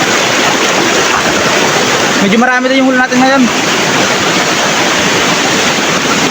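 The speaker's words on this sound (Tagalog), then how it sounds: "Kasi yung current ng tubig, pababa, malakas, hindi sila makakabalik." Strong water current flows downstream past a traditional fish and crab trap, a steady loud rushing wash that fills the whole clip, with someone speaking briefly over it.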